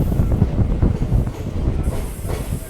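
A passenger train pulls out of Daroji station on the Munirabad to Ballari line, its wheels rumbling and clattering close by in a loud, steady roll with faint squeals.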